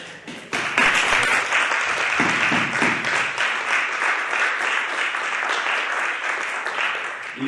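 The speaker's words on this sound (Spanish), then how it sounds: "voy a pedir un aplauso para todos vosotros y para vosotras" Applause from an audience at a talk on youth social entrepreneurship, starting abruptly after half a second and continuing as full, steady clapping for about seven seconds before easing slightly.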